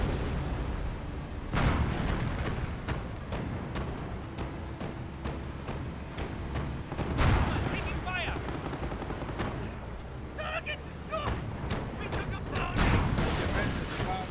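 An off-map artillery barrage in Company of Heroes, a string of heavy booms and blasts scattered across the clip, mixed with gunfire under a commentator's voice.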